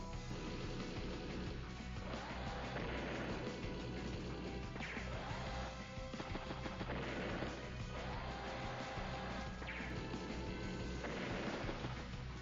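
Booming artillery fire and crashing impacts from the turn-based strategy video game Advance Wars: Days of Ruin, dense and continuous, layered over game music without speech.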